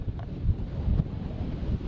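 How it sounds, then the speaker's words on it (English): Strong wind buffets the microphone outdoors, a steady low roaring rumble with gusty swells throughout and no voices. "It's so windy."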